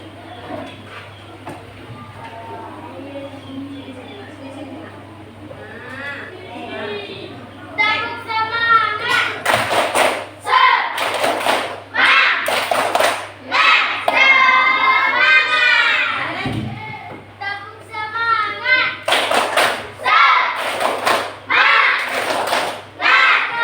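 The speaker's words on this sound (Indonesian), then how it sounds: "Yuk, siapa yang mau bikin tepuk semangat?" Grade five schoolchildren in a Pontianak elementary classroom perform a rhythmic spirit clap chant, a burst of sharp group claps alternating with loud shouted chanting, preceded by a single child's speech and a steady low hum.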